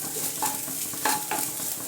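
A spoon stirs egg podimas with a little coriander leaf in a hot pan, giving a few quick scraping strokes over a constant close sizzle.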